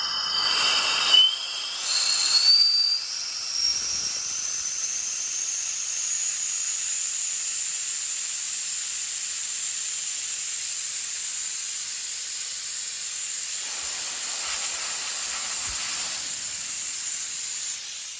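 Oxygen gas streams through a valve being adjusted while an oxygen system is serviced, giving a steady, close, high-pitched hiss. A brief rising whistle sounds early on, and the hiss then runs continuously on its own.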